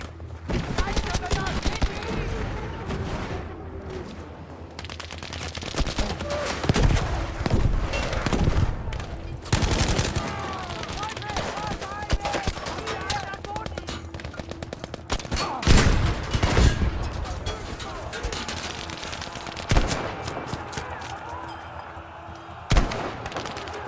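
Battlefield 5 combat with repeated bursts of gunfire, heavy booming blasts and scattered single shots over about twenty-four seconds, with voices speaking at times among the shooting.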